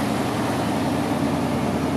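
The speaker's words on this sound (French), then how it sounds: "on l'entend tourner surtout, et on voit un moteur qui tourne régulièrement" A 1967 Ford Galaxie 500 V8 idles steadily through its dual exhaust, a smooth, even low rumble heard up close with no talking.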